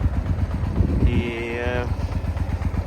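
A Honda Varadero 125 cc motorcycle with a Dominator exhaust idles close and loud with a steady, throbbing rumble, and a voice is briefly audible over it.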